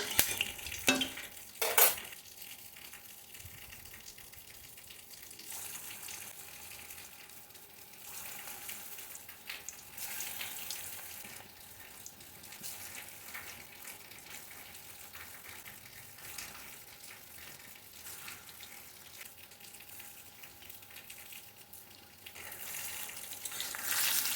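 Jackfruit koftas fry in hot mustard oil with a steady broadband sizzle, and a few louder clatters of utensils against the pan come near the start and end.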